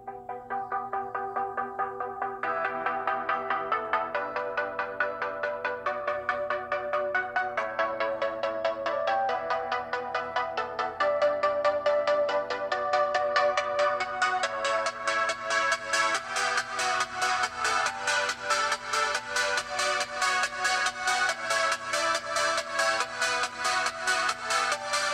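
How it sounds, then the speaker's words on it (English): Music plays through the small built-in speaker of an HTC U Ultra phone, a steady melodic song that thickens and brightens partway through, with no talking over it. "Let's try the second song for the HTC U Ultra."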